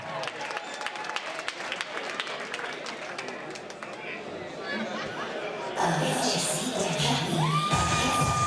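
A crowd at a boxing title fight night applauds and cheers as a boxer enters the ring. Clapping and shouts sound under and after an announcer's voice, and loud music with amplified sound begins partway through.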